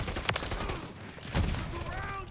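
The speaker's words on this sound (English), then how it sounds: "I ended up shooting my own team" Rapid bursts of video game gunfire from a team shooter, a few sharp cracks and short volleys, fairly faint and close together over a couple of seconds.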